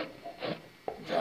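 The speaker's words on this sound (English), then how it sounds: "first I rough it out with the draw knife" Draw knife roughing out the chamfer on a wooden chair seat, a few short rasping scrapes of steel shaving wood, close and fairly quiet, with a sharper catch near the end.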